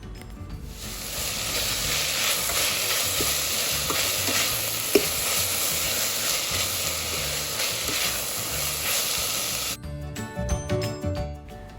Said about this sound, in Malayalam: കൂടെ വെളുത്തുള്ളി അരിഞ്ഞതും കൂടെ ചേർത്ത് കൊടുക്കാം. പിന്നെ പച്ചമുളക് എല്ലാം കൂടെ വീണ്ടും വഴറ്റിയെടുക്കാം.